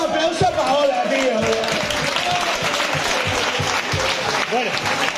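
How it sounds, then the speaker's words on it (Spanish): Audience applause at a One Piece fan festival reaction event, a dense sustained wash of clapping and crowd noise lasting the whole stretch, with voices talking and shouting over it. "Un puto aplauso para Paola, tío."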